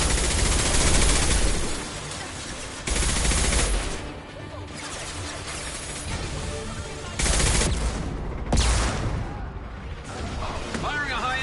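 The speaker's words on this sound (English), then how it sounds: "Firing a high-impact shot!" Dense bursts of video game gunfire erupt in loud, broadband volleys, some sustained and some in sharp clusters, mixed with other busy game noise and shifting in intensity throughout.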